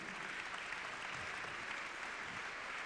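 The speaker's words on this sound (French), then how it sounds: "On les applaudit bien fort" An audience claps for five award-winning managers at an awards ceremony, producing a steady, even wash of applause with no breaks for its short length.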